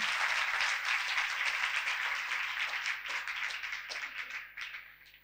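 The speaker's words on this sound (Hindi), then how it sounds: "खुदा के जलाल के लिए जोरदार तालियां बजाएंगे" A church congregation applauds during a Christmas sermon, a broad wash of many hands clapping together, steady at first and then thinning and fading out, somewhat distant and soft.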